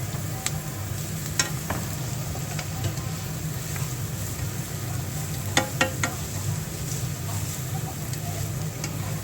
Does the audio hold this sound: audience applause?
no